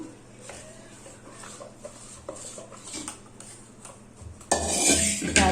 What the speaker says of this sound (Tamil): இதில் இப்போ தண்ணி ஊற்றி நல்லா